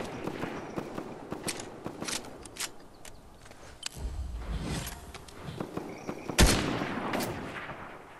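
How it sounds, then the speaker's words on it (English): Gunfire in the Fortnite video game, a scatter of sharp shots and bursts at varying distances with footsteps and movement in between, one louder close shot standing out near the end. "Oh, somebody is shooting at us."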